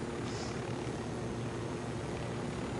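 A steady, faint helicopter drone hums throughout in Ghost Recon Wildlands, a constant rotor-and-engine rumble with no other sounds.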